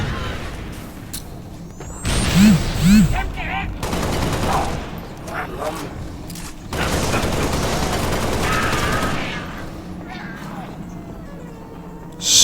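Video game gunfire in loud bursts and rapid volleys, separated by quieter stretches, with a final sharp shot at the end.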